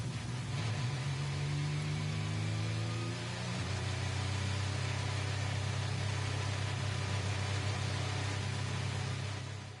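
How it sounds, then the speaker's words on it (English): A steady Audi diesel race car engine drone in GT Sport holds throughout, its pitch gliding down early on before settling into a constant idle-like hum with a hissy background. "We'll just wait for the sound of that Audi diesel engine to get out of the way"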